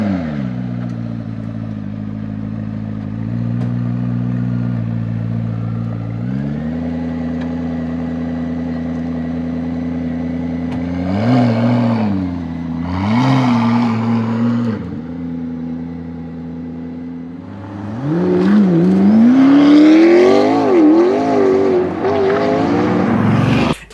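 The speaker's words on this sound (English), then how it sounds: "I need to put in like a little sound bite thing of how it sounds." A McLaren sports car engine idles with a deep steady hum, then revs up several times in sharp climbing bursts, loud and nearby.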